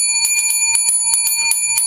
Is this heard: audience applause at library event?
no